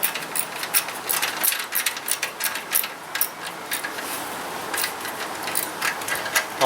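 Quarter-inch drive ratchet tightening exhaust bolts on an Indian Scout Sixty with a Bassani 2-into-1 exhaust: close, rapid bursts of light metallic clicking that start and stop unevenly, with no talking.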